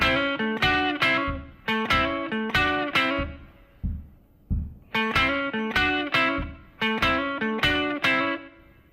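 Electric blues guitar riff in A played alone, syncopated plucked notes with a hammer-on, repeated twice with a short pause between, clean tone and close.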